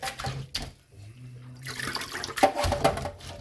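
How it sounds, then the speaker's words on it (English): Water trickles and splashes into a sink in uneven bursts as washed cabbage drains, with brief clattering and gurgling near at hand. "I'm going to let the cabbage drain."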